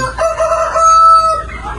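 A rooster crows once, loud and close, a drawn-out strained call with no other sounds around it.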